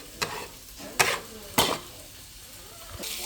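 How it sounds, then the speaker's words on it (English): Vegetables sizzling in a pot while being stirred for an oxtail dish, with three or four sharp scraping stirs spaced apart over a soft, steady frying hiss. "Okay, let's stir that up."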